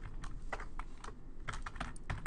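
Continuous typing on a computer keyboard, a steady patter of close, moderately loud key clicks with no talking.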